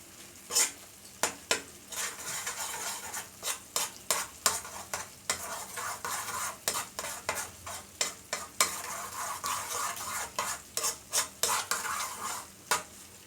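Cornstarch is stirred into pepper steak sauce in a pan, heard as a string of sharp, irregular scrapes and clacks of the utensil against the pan over a soft sizzle, close and without speech.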